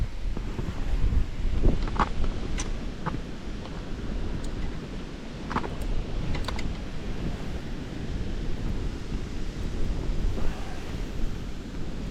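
Strong wind roars continuously and loudly against the microphone, buffeting with low rumbling gusts, with faint sounds of water in the background, while spinning for fish in the Cherkasy region's reed marshes.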